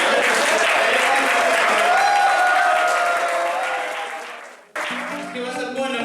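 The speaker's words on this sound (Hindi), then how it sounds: "तालियां बजाते हैं" Sustained applause from a crowd at a Lohri celebration, loud and steady, fading briefly before a fresh burst of clapping resumes.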